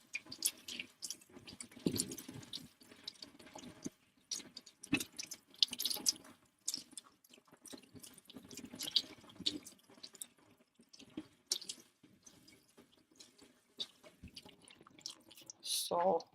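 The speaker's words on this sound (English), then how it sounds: "then just give a last wash with cold water" Wet felted wool hedgehog being rinsed in cold water: irregular drips, splashes and squelchy squeezes come in scattered bursts, close and fairly quiet, with pauses between.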